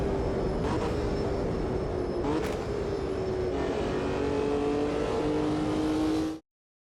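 A V12 race car engine from a Ferrari 250 GTO in a racing video game revs hard and steadily, its pitch climbing and dipping through gear changes, loud and close, then cutting off abruptly.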